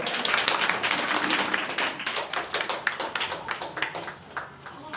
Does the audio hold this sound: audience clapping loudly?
yes